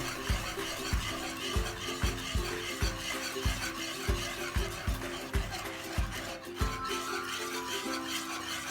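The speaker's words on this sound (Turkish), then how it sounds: "Bu saatten sonra iyi karıştırmanız lazım dibi tutmaması için." A spoon stirs fig pudding in a pot over low heat, scraping the bottom in a steady rhythm of close, repeated strokes against a continuous background hiss.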